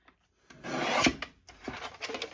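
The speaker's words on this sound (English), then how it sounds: "I think what I'll do is I'm going to cut this last row of" A row is trimmed off a half page of paper in a scrapbook or junk journal, heard as a close rasping, rubbing cut that swells for about a second and is followed by softer scuffs, with no voices.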